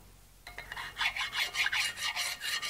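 A metal file rasps a burr off the compound of a Sidney lathe, starting after a short silence, then running in close, rhythmic strokes of about five or six passes.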